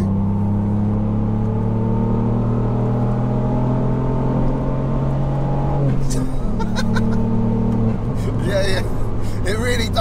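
Revo Stage 2 tuned Ford Fiesta ST accelerating hard in third gear on a back road, a loud steady engine drone that rises in pitch inside the cabin, with people talking and exclaiming over it.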